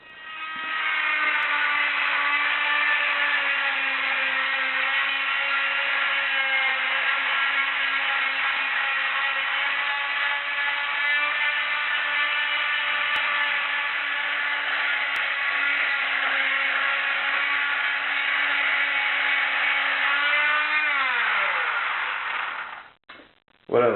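A power sander fitted with a sanding plate grinds tile adhesive off a wall, a loud steady whine running continuously for over twenty seconds before dropping in pitch as it winds down, followed by a couple of knocks.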